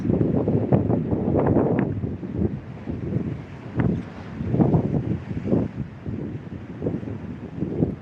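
Strong wind buffeting a microphone out on rough open water during a fishing session, coming in gusty, rumbling pulses that rise and fall throughout, with no talk.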